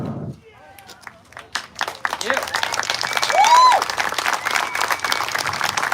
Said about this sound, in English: Please give another round of applause for the Honor Unit.